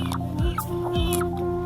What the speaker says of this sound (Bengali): এই যে মুরগি পাইছে খালা